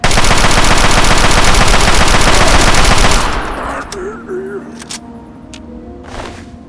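Fallout 3 video game gunfire opens with loud, rapid automatic bursts lasting about three seconds, then cuts off into a quieter tail with a few clicks and a brief voice.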